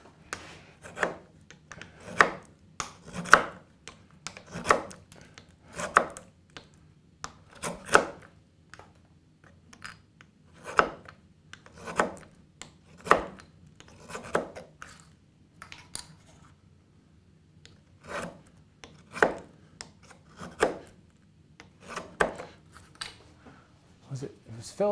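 Rhythmic strokes of a hand tool shaping a wooden wedge board for a perch stool, a steady series of sharp rasping passes repeating about once a second over a low background hum.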